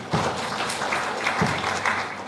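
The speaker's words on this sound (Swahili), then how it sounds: "Mpigeni makofi." An audience at a Tanzanian political party gathering claps steadily, a dense wash of applause from many hands that stays moderately loud and even throughout.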